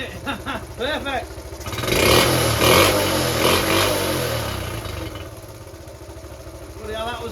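A Honda Cub C70 classic motorcycle engine, just restored with its points fixed, runs steadily and loud for several seconds, with a brief rise in revs near the middle; voices talk over it at the start and again at the end.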